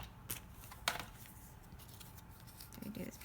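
Scissors snipping through pink cardstock while making a handmade Mother's Day card, giving a few quiet, crisp cuts spread out over a soft, near background.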